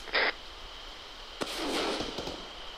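Distant gunshots crack across open ground during a military field training exercise, one sharp report followed by a few scattered pops over a steady hiss, with a short tone burst near the start.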